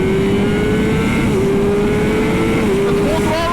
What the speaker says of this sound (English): let's see what this bike can do